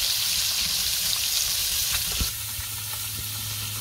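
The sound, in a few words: fish frying in a pan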